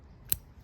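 Scissors give a single sharp snip while pruning the tips off a succulent, close and quiet, with near silence around it.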